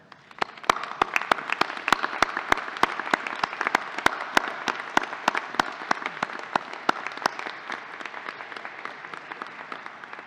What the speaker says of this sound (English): join me in a round of applause to thank them for all of the help they've given you in reaching this milestone.